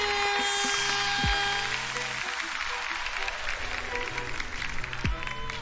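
Applause from a crowd at a Peruvian freestyle rap battle event, steady clapping filling the whole stretch with some talk and noise mixed in.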